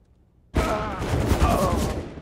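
A sudden, loud burst of rapid gunfire in the video game CS:GO, starting abruptly after half a second of near silence and rattling on densely, with a voice talking over it.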